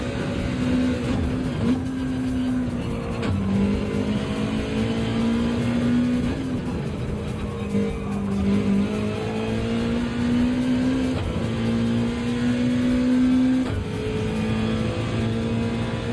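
Several Gr.3 race cars lapping the Red Bull Ring in Gran Turismo, with a steady, loud engine drone whose pitch rises and falls through gear changes and corners, no talking over it.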